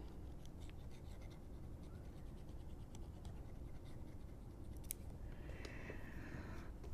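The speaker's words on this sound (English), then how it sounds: "Erase what we have and draw us another little graph here to work on." A marker scratches and squeaks across a board while a small graph is drawn for a lesson on increasing and decreasing functions, faint intermittent strokes over a steady low room hum with no talk.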